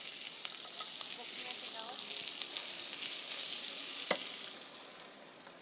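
Shallots and chicken sizzle and fry steadily in olive oil for a tagine at a Paris food-fair cooking class, a continuous bright crackle with a sharper pop near the end.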